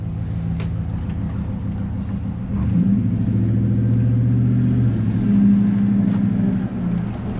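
A 2003 Hemi Ram pickup truck with 415,031 miles, engine idling with a deep rumble, then revving up louder and holding higher RPMs before easing back down.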